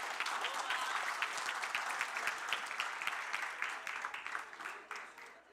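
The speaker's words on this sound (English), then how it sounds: "A round of applause for our Chief." A conference audience at a Manila forum breaks into applause for the chief officer, a dense wash of many hands clapping at once, sustained for several seconds before tapering off toward the end.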